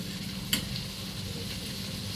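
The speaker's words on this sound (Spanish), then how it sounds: "Ahí le estamos agregando el tomatito" Chopped tomato goes into a pan of smoked pork chop stew with chile strips, setting off a close, continuous sizzle with a brief sharp burst as it lands.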